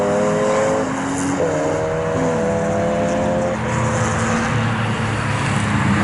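A Mazda MX-5 race car howls past on the Snetterton circuit, its engine note loud and close, then shifting and fading as other race cars drone nearby.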